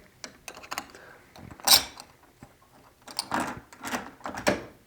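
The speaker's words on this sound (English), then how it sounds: "we can go ahead and get the screws in here" Screws being fastened into a front door deadbolt lock during installation, heard as a string of close, light clicks and scraping taps in irregular bursts with short pauses between them.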